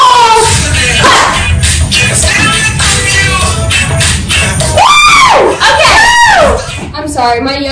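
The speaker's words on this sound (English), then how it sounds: "My yell is so obnoxiously loud." A loud, excited yell bursts out during house-party dancing, rising and falling in long pitched swoops over lively music and crowd noise, close and overpowering.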